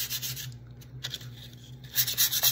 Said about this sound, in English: I'm going to have a really, really fine sandpaper here and I'm going over it very carefully.